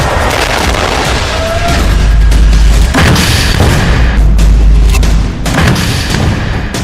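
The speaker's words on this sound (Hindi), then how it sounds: "ग्रेनेड, रॉकेट से इजराइल की सेना पर बेहद करीब से हमला किया गया" Grenades and rockets fired at Israeli troops at very close range in wartime combat, with heavy booms rolling over a constant, loud, distorted roar of battle noise.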